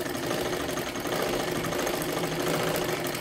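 A sewing machine stitches a princess blouse with a steady, close, continuous whir and hum.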